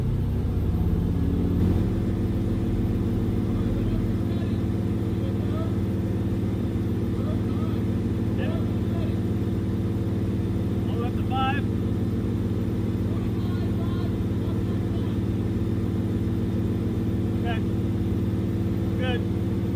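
A V8-swapped MR2 engine idles with a steady low rumble on a dyno, held near and continuous for the whole stretch, with faint talk and clicks over it before the first pull.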